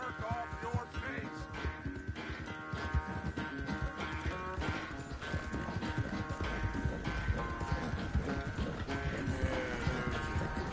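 Horse hooves beating a steady rapid clip-clop in Red Dead Redemption II, close and continuous for the whole stretch, layered under a game soundtrack and ambient noise.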